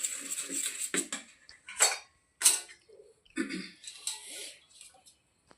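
A food mixture stirred in a dish, with several scattered metallic scrapes and clinks of a spoon against the dish separated by short quiet gaps, plus a brief throat-clearing sound.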